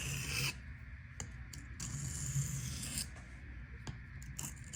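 A knife edge rasps across a sharpening stone to remove the burr, a steady close scraping made of several short strokes with brief pauses between them and no voices.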